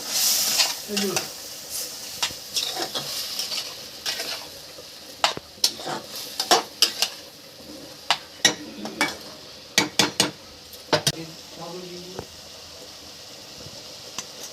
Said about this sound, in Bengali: দিয়ে মশলাটা একটু ভাজবো